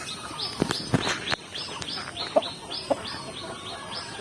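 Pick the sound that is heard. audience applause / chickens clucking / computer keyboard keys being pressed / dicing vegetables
chickens clucking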